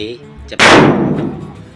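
Single loud gunshot at an outdoor shooting range, a sharp close blast followed by a long rolling decay, with faint voices just before it.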